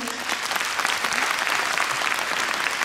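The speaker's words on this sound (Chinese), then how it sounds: "我们给我们产品一个热烈掌声" Audience applause fills a large convention hall during a business testimonial event, a dense, steady clapping that stays loud and even throughout.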